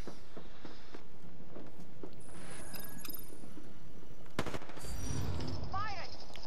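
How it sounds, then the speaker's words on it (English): Gunfire in the battle royale video game Apex Legends crackles in rapid automatic bursts, with scattered single shots and faint footsteps, loud and close in the game mix. "They're shooting at me?"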